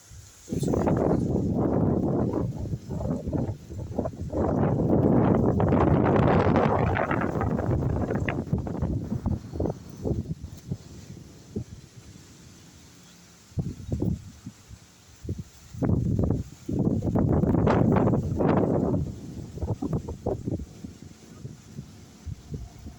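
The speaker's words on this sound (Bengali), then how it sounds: "প্রচণ্ড জোরে হাওয়া দিচ্ছে।" Strong gusts of wind roar against the microphone outdoors ahead of Cyclone Remal, surging loudly for several seconds, easing briefly, then buffeting again in heavy bursts.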